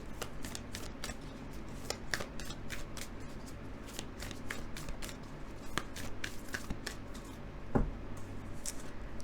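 Moonology oracle cards are shuffled in a quiet room, a steady soft papery rustle with repeated crisp flicks and slaps throughout.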